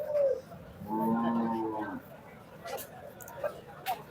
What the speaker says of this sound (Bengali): এই গরুগুলি খুবই বড় সাইজের গরু এবং দেখতেও খুব আকর্ষণীয়।